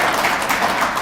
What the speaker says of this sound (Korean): 우리 고 회장님께 박수 한번 또 한번 쳐주시죠